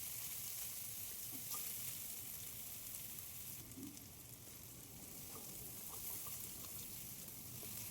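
Masala with tomatoes fries in a pan as a soft, continuous sizzle with faint intermittent stirring sounds, fairly quiet and steady for several seconds.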